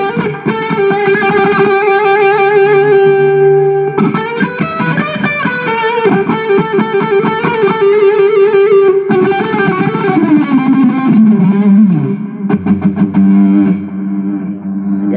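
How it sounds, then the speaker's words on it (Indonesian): An electric guitar plays a lead line through an amp simulator with reverb and delay, sustained distorted notes ringing with echo tails, loud and continuous with a slide at the end and no talking. "Terus aku hidupin reverb sama ini ya, delay-nya."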